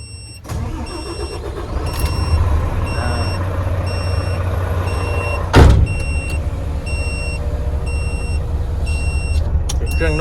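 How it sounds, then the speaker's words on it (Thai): UD 390 hp truck tractor with automatic gearbox starting up, then settling into a steady low idle rumble, with a single sharp clunk midway and repeated high electronic beeps throughout. "ไปสตาร์ท ฟังเสียงเครื่องกัน"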